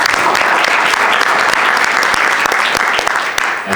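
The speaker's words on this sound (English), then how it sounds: "Give Sean a round of applause, please." Conference attendees at an international drug policy gathering applaud a panelist being introduced, producing loud, continuous, close-sounding clapping from a large crowd that holds steady before easing off at the very end.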